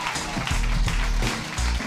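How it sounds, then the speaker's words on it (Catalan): Audience applause at a Catalan talk show about education, a dense, steady burst of many hands clapping close by for about two seconds. "Així que un fort aplaudiment per la Neus Rossell."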